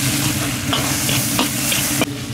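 Minced pork stir-fries in a wok with dark soy sauce, salt and Sichuan pepper powder, giving a dense close sizzle broken by a few sharp scrapes of the spatula.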